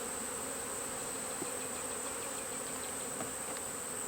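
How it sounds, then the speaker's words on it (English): A steady swarm of agitated honey bees buzzes continuously and fairly loud around an opened hive with cross comb between the frames, with a few individual bees flying close past and no talk. "These bees are not happy with me right now."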